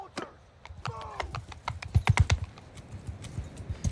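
Horse hooves clip-clop in quick, uneven bursts during a Mount & Blade 2 Bannerlord battle, loudest in a rapid cluster midway and layered over game noise and shouted commands.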